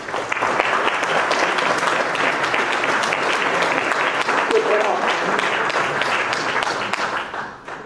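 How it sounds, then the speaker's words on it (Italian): Sustained applause from a large audience, dense and steady throughout at a constant loud level, with faint voices mixed in and a slight fade right at the end. "Quindi un applauso a Sabina."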